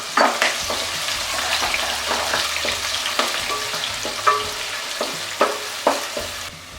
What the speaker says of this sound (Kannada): ಅದನ್ನು ಕೂಡ ಬ್ರೌನ್ ಕಲರ್ ಬರೋ ಥರ ಫ್ರೈ ಮಾಡಿ ತೆಗೆದಿಟ್ಕೊಬೇಕು